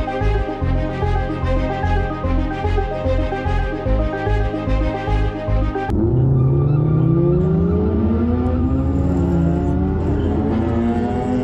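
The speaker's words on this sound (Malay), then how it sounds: "Aksi pelumba kereta menjadikan laluan awam sebagai litar lumba haram" Modified cars racing illegally on a public road, engines revving loudly with rising and falling pitch sweeps as they accelerate past, following a stretch of rhythmic pulsing; close and dominant throughout.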